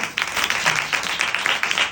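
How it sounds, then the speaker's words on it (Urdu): A church congregation claps loudly for Jesus, a close, rhythmic burst of many hands clapping in roughly regular beats throughout. "اپنے یسوع کے لیے زوردار تالیاں"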